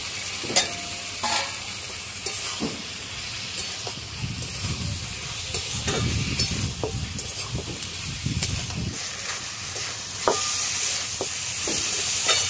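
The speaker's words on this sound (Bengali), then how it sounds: "এবার দিয়ে দেবো এর মধ্যে ঝিঙেগুলো। ঝিঙেটা দিয়েও একটু কষিয়ে নেব।" Ridge gourd stir-fried in a spice paste, a steady close sizzle and hiss with repeated scrapes and clinks of a spoon against the pan, bursts of louder frying in the middle, no talking.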